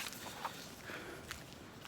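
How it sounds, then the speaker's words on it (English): Soft footsteps on a night street in Asakusa, a few scattered light steps at a distance amid quiet ambient noise, faint and irregular. "Oh shoot, footsteps."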